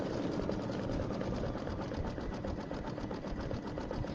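An embroidery sewing machine stitches out a design in a steady, continuous mechanical whir with a fast rhythmic patter, moderately close and unchanging throughout.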